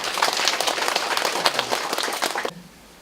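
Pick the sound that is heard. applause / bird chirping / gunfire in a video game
applause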